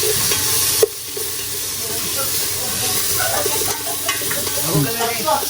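Food cooking in a pan at a family dinner gets stirred with a steady loud sizzle and hiss, scraping strokes and a sharp knock early on, while people chatter in the background.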